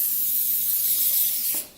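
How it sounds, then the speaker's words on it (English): A continuous aerosol spray hisses loudly for about a second and a half, then cuts off abruptly. "Spray that in there."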